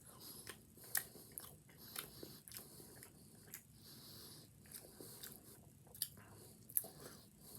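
Close, quiet chewing of emergency survival food dressed with Louisiana hot sauce, soft irregular bites and crunchy, squishy mouth sounds repeating throughout with no talk.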